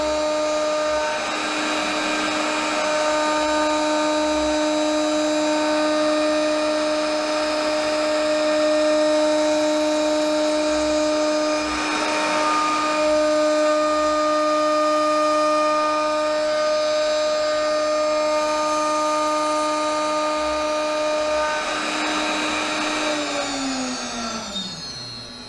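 CNC router with a quarter-inch solid carbide down-cut spiral bit cutting laminated wood parts. A loud, steady high-pitched spindle whine carries several swelling cutting passes, then winds down at the end, with no talking.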